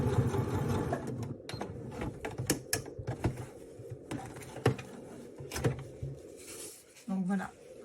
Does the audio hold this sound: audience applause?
no